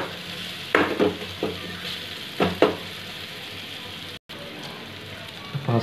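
Pasta sauce with tomato sauce cooks in a pan, a low bubbling sizzle broken by a few sharp spoon stirs and clanks against the pan.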